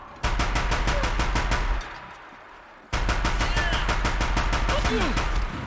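Rapid automatic gunfire from the video game Horizon Zero Dawn crackles in two long, loud bursts split by a short pause, with a bit of in-game voice behind the shots.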